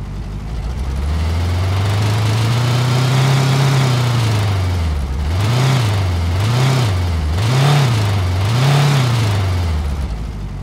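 A Volkswagen Beetle engine holds a steady rev before dropping, then rises and falls in four quick blips of throttle, a loud, close, low air-cooled drone with no talking.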